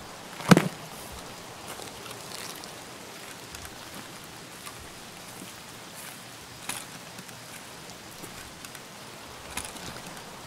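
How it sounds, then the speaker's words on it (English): Rain falls in the Escape from Tarkov shooter, a steady, faint hiss of drops with a few soft knocks and no voices. "the rain messes with your hearing"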